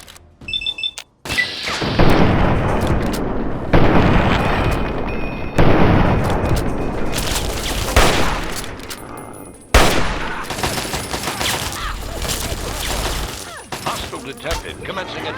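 Heavy combat in Fallout 3: loud bursts of automatic gunfire and booming blasts in long, dense volleys separated by short breaks, with a voice calling out amid the din.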